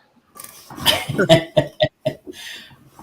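A few harsh coughs in a quick cluster, close and fairly loud, with short breathy pauses between bursts.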